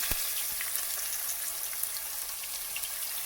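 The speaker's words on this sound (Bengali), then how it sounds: "আলুটা ভেজে নেবো এর দিয়ে দেবো আমি একটুখানি হলুদের গুঁড়ো" Potatoes fry in oil with a pinch of turmeric powder for a fish curry with water lily stems, giving a soft, even crackling sizzle with scattered spitting pops and one early thump, heard close but at low level with no voices.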